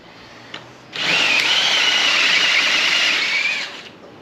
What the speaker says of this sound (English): It's got a strip screw, so we're gonna drill the baby out.